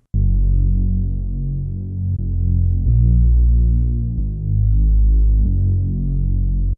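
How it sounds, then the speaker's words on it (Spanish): A wild, rich bass patch synthesized in Serum plays as a loud, sustained low growl with throbbing, pulsing texture, re-triggered every second or so with slight tonal shifts, alone with no voices. "Vamos a buscar un Rich Bass aquí que esté bien salvaje."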